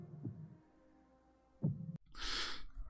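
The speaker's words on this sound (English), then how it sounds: "And you hear just the heartbeat" A heartbeat sound effect from the 1976 King Kong film: two soft, low thumps about 1.4 seconds apart, then a sudden burst of hissy noise, all quiet.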